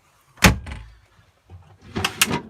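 An interior door in a 1978 MCI8 custom coach opens and closes: a sharp knock and clatter early, a pause, then a second cluster of latch clicks and a thump, close and clear, no talking.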